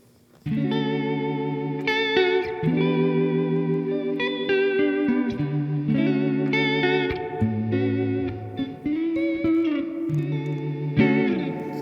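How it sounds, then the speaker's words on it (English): Sustained electric guitar chords and notes with a wobbling vibrato effect that bends the pitch up and down, played alone with a warm, slightly chorused tone. "because vibrato actually sounds like this"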